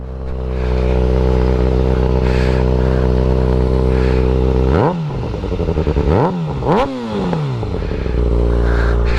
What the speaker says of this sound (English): see if you can hear the exhaust.